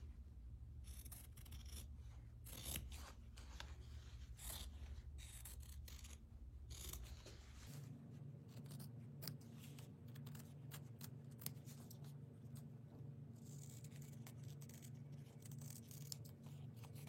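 Scissors cut fabric pieces for sewing. Quiet, close snipping and rustling runs steadily, with a denser stretch of cuts early on, then lighter, sparse clicks as the blades continue.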